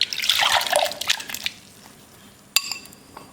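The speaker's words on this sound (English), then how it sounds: "So I'm going to add the soaked goraka into this" Soaked goraka and its soaking water are poured into Sri Lankan curry paste for a spicy red fish curry, a brief trickling splash that fades, then a single soft clink, with no talk.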